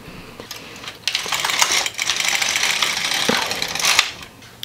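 Metal needles on a knitting machine are pushed out to holding position for a kid's yoke sweater, giving a run of close, light clicking and sliding scrapes with a few sharper ticks and no talking.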